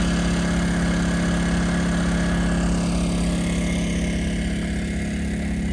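A small generator runs loud and close with a constant low mechanical drone, powering a garden irrigation setup, steady throughout with no voices.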